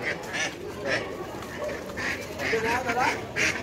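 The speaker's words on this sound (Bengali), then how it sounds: "তো এখানে সব বড় বড় হাঁস, ওই যে" Geese and ducks at a village market, with repeated close quacks and honks rising over steady crowd chatter and a person talking.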